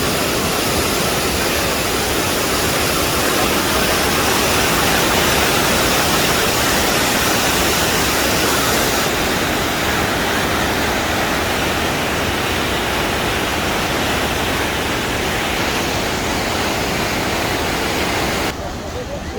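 Floodwater of a swollen river rushing past a suspension bridge, a loud, unbroken roar of churning water with a voice talking over it.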